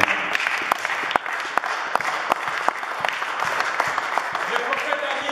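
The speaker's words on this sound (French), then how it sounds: "Si nous pouvons nous donner une acclamation de Dieu." A church congregation applauding, dense crowd clapping with crisp individual claps standing out, steady and fairly loud throughout, with voices mixed in underneath.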